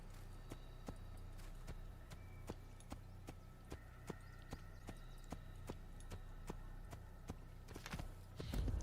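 A horse walking in Assassin's Creed, steady evenly spaced hoof clip-clops over a constant low background hum, ending in a brief louder rustle.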